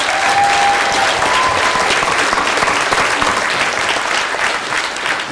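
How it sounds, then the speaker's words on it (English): A large audience at a 150th anniversary show for the Thames Goldfields applauds children who have just performed, with dense, steady clapping that fills the whole stretch without a break. "So can we just give them a really big round of applause?"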